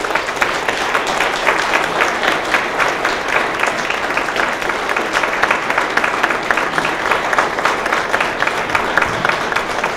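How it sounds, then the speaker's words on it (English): Sustained applause from a lunch audience at a Martin Luther King award event, dense steady clapping filling the room for the full ten seconds with no voices standing out. "invite you back up for one more round of applause"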